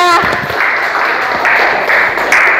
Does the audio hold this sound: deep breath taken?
no